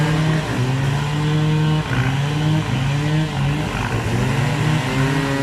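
A farm tractor tows a ten-wheel truck out of a deep field, its diesel engine droning loudly and continuously, the pitch rising and falling in repeated swells as it labours.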